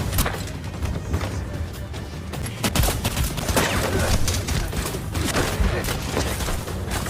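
A film scene fills with pistol gunfire, a rapid burst of sharp cracking shots fired in quick succession until the gun runs dry, loud and close, mixed with clattering action noise.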